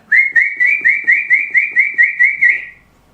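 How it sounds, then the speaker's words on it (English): A person whistling for dogs, a loud close run of about eleven quick, rhythmic rising chirps in steady succession, ending in one longer note, with no other sound around it. "That whistle was intentionally for your dogs to start going off the barnets"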